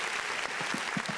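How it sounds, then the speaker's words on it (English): A brief burst of applause on a gaming podcast, dense and steady for just over a second, with faint low murmurs beneath. "now I got to give you a round of applause"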